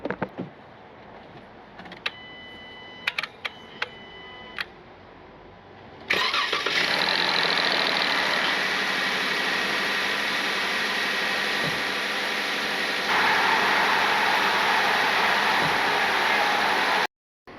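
A few clicks and clatters, then a car engine with a worn pulley bearing cranks and catches, settling into a steady loud idle that runs on to the end.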